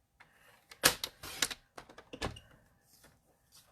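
Cardstock for a simple twist-fold card is cut in a few sharp, close bursts of slicing and rustling, loud at first and then tapering to faint handling noises.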